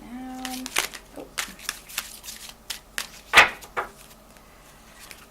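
Playing cards are shuffled in a series of quick riffling bursts, with soft tapping and a louder snap near the middle, close by.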